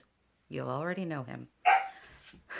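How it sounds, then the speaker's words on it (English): Milo, a pet dog, lets out a drawn-out, wavering bark-like whine indoors, followed by a short sharper yelp, with a person speaking briefly nearby. "And that's my dog."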